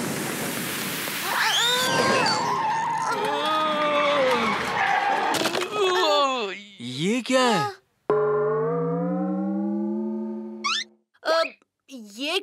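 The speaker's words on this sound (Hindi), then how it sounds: "ये सिटी का ट्रैफिक है जो आपको हर चौराहे," Cartoon city traffic with skidding cars: a noisy screech and rushing roar are followed by sweeping, siren-like wails and a long falling tone, broken by short gaps while cartoon voices chatter throughout.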